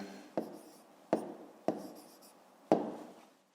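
Pen strokes on paper while a math solution is written out by hand, four quiet taps and scratches spaced unevenly across a few seconds in a very still room.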